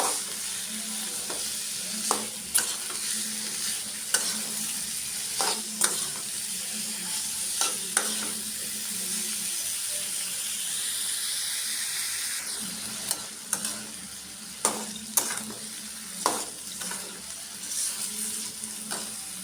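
Shrimp and vegetable stalks sautéing with spices in a pan, a continuous sizzle under repeated scraping stirs and sharp spatula knocks, close and fairly loud, with no voices.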